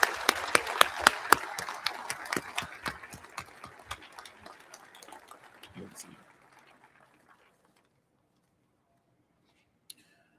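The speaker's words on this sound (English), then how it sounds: "let's join in giving each of these folks a round of applause" A small crowd applauds at a ribbon-cutting ceremony for a maritime training center, sharp individual claps starting loud and thinning out over six seconds before fading to near silence, with one stray clap later.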